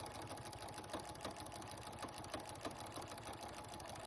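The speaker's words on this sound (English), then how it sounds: "I'm just gonna sew these together to make one long strap" A sewing machine stitches apron straps together into one long strap for a harvest apron, running in a steady, continuous mechanical whir with a rapid needle chatter, close and fairly quiet.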